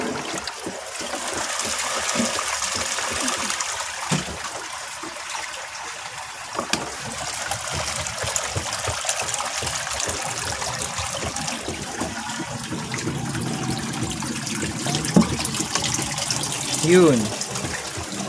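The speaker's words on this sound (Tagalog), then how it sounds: "open na po yung pipe dito naman para lumabas yung tubig na nandito" Water pouring out of an opened drain pipe into a homemade bucket pond filter, a steady broad rush and trickle that runs throughout, with a voice talking over it now and then.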